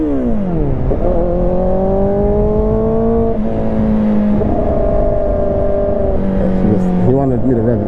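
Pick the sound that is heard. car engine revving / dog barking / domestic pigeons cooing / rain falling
car engine revving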